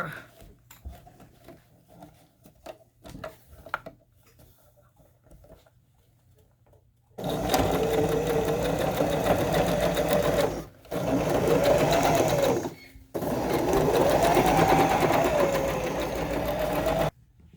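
A home sewing machine stitches a snake costume in three loud, steady whirring bursts separated by brief pauses. Quieter handling noises and some faint talk come before it.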